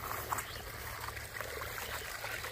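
Irrigation water trickles and gurgles steadily into a flooded rice paddy field outdoors, a soft continuous flow with faint splashes and low background rumble.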